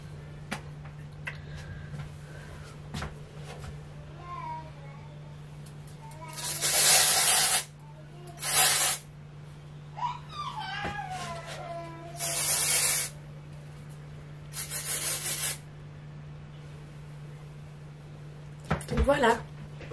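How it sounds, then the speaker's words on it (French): Hairspray can sprays in several separate bursts of loud hissing, each lasting about half a second to a second, close to the microphone, with quiet pauses and faint rustling between them. "On va mettre un peu de spray net"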